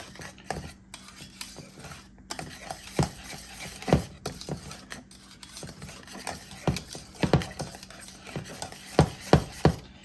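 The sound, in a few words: stirring pie filling ingredients with a pinch of salt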